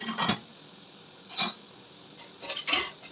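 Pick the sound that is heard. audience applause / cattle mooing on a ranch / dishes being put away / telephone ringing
dishes being put away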